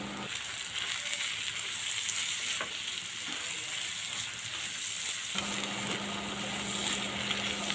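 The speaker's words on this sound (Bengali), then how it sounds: "আমি এটার মধ্যে এখন এক চা চামচ গরম মশলা গুঁড়া দিয়ে দিলাম নাড়াচাড়া করে দিলাম" Beef tripe sizzles in a pan while it is stirred with ground garam masala, a quiet, even frying hiss broken by a few spatula scrapes and clicks, with no voices.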